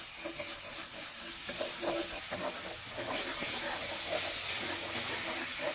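Water poured onto flour in a hot pan, a steady close hiss and sizzle with faint stirring scrapes running throughout, no talking.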